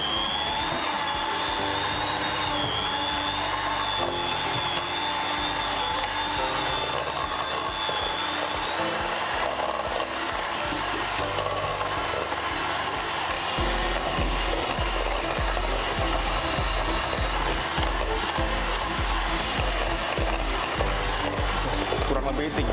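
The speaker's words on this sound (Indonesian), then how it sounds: "Kemudian kita mixer kembali dengan kecepatan tinggi." An electric hand mixer whirs steadily at high speed through half-frozen homemade ice cream batter, a continuous dense motor drone with a high whine that holds for the whole stretch and thickens slightly partway through.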